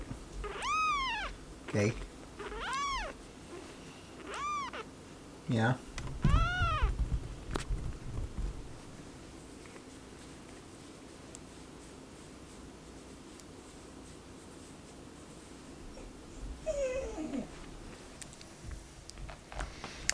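A kitten found in the back of a Tundra pickup gives a string of high, rising meows at close range, with soft rustling and short bits of a person talking quietly between them.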